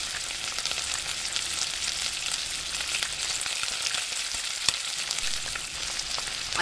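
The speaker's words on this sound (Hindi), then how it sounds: "अच्छी तरह से सॉटे करिए।" Boiled mutton boti being sautéed with fried onions in a pot, giving a soft, steady sizzle with faint stirring scrapes and a small clink, close but fairly quiet.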